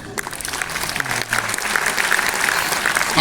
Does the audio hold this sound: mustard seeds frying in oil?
no